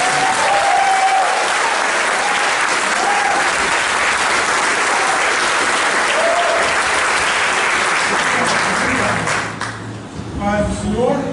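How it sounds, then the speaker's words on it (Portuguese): A church congregation applauds loudly and steadily during an evening service, a dense wash of clapping that tapers off near the end, with voices rising faintly through it. "Então nós queremos saudá-los com uma grande salva de palmas."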